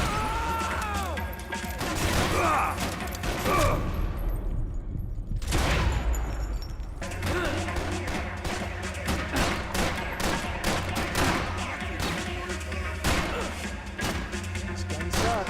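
The player's gun in Max Payne fires loud, rapid, sustained volleys with thuds and crashes mixed in, broken by a brief pause, then resuming as a dense stream of shots.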